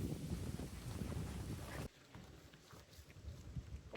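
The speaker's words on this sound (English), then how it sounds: "Hopefully it's not this windy all night." Strong wind buffets the microphone at a cold hammock campsite with loud rumbling gusts, dropping abruptly partway through to a lighter, fluttering breeze.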